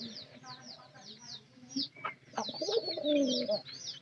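A pair of pigeons coos in a soft, repeated rhythm, close by and indoors-sounding, with a louder burst of cooing near the end amid light fluttery bird noise.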